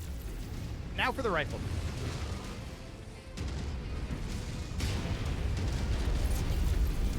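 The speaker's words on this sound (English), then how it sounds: "Target Explosion imminent. Your target is about to crit, Commander." A mech blowing up in MechWarrior 5: Mercenaries, a deep rumbling blast and heavy booms under a steady roar of combat, with a voice speaking partway through.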